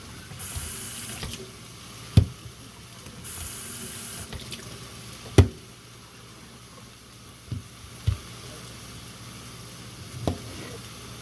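Kitchen tap running into a sink for a quick wash, a steady water hiss with a few sharp clanks of dishes or utensils scattered through it, close by.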